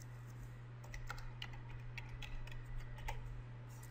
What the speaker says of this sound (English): now I'm going to put in a password.